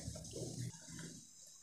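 Water poured into a pressure cooker holding chopped elephant foot yam, a short splashing pour lasting under a second, then fading into a soft trickle, close by with no talk.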